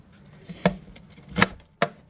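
A knife chops through a strong onion on a cutting board, three sharp, distinct thuds spaced unevenly over a couple of seconds, close and clear with a quiet kitchen background.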